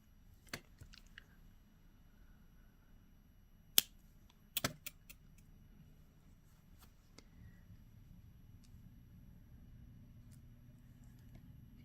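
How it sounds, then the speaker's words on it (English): A wire cutter snips excess beading wire while a necklace is assembled from a Soft Flex bead kit: a few faint, sharp clicks spaced apart over quiet room noise. "And then cut our extra wire."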